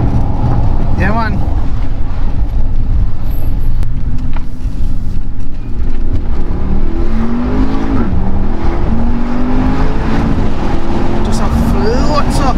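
A 2019 Brabus 800 Mercedes with a twin-turbo engine, 800 horsepower and all-wheel drive, rumbles loudly and steadily with rising engine tones under ongoing conversation inside the car.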